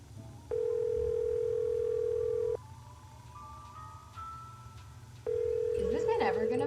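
Unanswered telephone ringing in the Nancy Drew game The White Wolf of Icicle Lake: two long steady ring tones separated by a quieter gap. The line clicks off at the end and a voice starts speaking.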